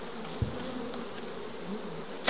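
Honeybees buzz close by while a hive is transferred, their droning hum rising and falling as they fly past, with no voices.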